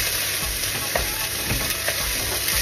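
Onion and garlic sautéing in a pan, giving a steady, close frying sizzle with faint stirring scrapes throughout and no talk.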